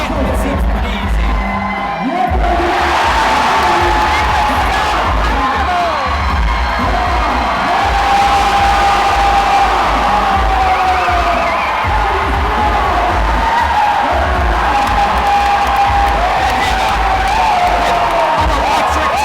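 Loud, sustained crowd roar at a USA Climbing competition, cheering and whooping swelling after a short quieter start and holding strong to the end.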